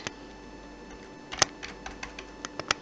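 Sparse, faint clicks of keys on a computer keyboard, a handful of separate taps at an uneven pace over a quiet background.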